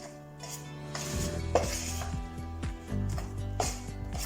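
Banana fritter (pazhampori) batter being stirred in a bowl, a close run of clinking, scraping strokes with a brief knock, loud and steady, without any talk.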